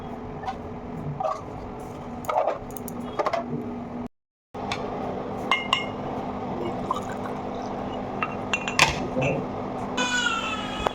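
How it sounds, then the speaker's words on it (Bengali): Hot tea poured into a cup at a shop during Durga Puja, a gurgling liquid stream with glassy clinks, joined near the end by a rising high-pitched filling tone over faint background voices and a brief dropout. "চা খাবা গরম গরম চা নাড্ডু"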